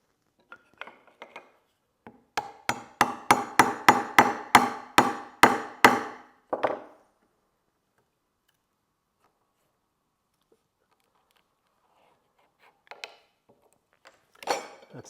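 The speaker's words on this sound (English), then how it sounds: "I'm just going to take my chisel and see if I can pop that back out" A chisel knocked against a wooden rocking horse to pop out its centerpiece: a rapid run of sharp, bright taps that speeds up and then stops, followed by a long quiet and a few scattered clicks.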